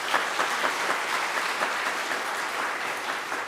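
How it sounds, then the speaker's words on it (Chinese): A church congregation at a Taiwanese-language Sunday service breaks into warm applause, a steady, dense clapping from many hands in an indoor hall that carries on evenly throughout, with no speech over it. "请大家鼓掌，带鼓励一下"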